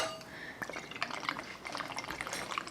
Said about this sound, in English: pour in your 2 ounces of scotch